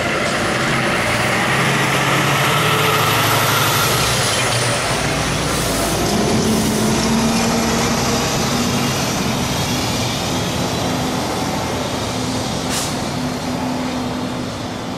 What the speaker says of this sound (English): we'll wait for the truck to go by